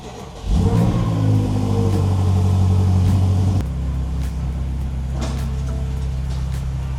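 A wrecked BMW M5 under rebuild starts up and drives outside, its engine catching with a loud rising roar, then settling into a steady close idle hum.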